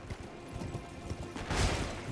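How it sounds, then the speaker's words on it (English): Hooves of a horse clip-clop inside a house in the video game Elden Ring, a soft irregular patter of steps ending in a louder, heavier burst of movement. "I love the way you can ride your horse inside the house."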